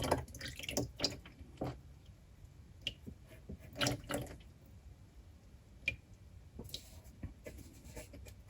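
Transmission fluid drains from the tilted drip pan of a 2013 Mercedes C300 W204 4Matic during a transmission service, giving soft irregular drips and splatters close by, with occasional wet squishy bursts and no talking.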